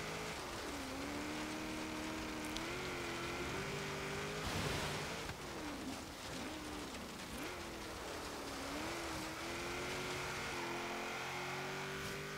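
A 1992 Toyota Celica GT-Four RC ST185 in a racing video game autocross run, its engine droning loud and continuous, pitch climbing and dipping through gear changes over a hiss of noise.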